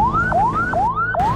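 A simple community ambulance siren wails through the streets of Yogyakarta, loud and close, its rising sweep repeating about three times in steady cycles.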